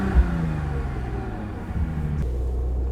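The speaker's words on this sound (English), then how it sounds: "you insert it to the left of the steering wheel to start the car up." A 2005 Bentley Continental GT fires up and settles into a low, steady rumble, with a brief thump near the start and the engine note heard close and continuous throughout.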